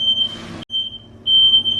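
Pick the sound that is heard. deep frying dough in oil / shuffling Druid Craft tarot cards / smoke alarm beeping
smoke alarm beeping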